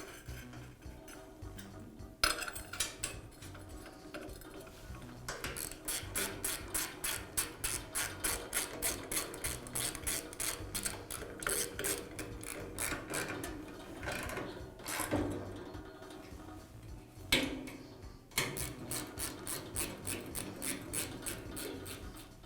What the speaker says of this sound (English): I can secure it with the bolts.